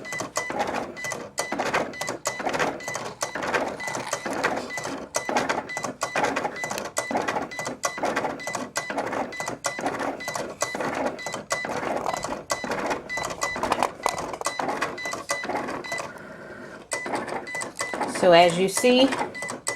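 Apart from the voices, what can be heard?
Cricut cutting machine cutting out a design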